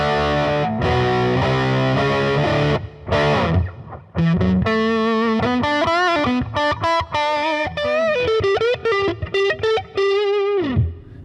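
An electric guitar on its bridge humbucker runs through a gain pedal set to maximum on a POD Go, giving thick distorted chords and sustained notes that ring loud and close with only brief gaps.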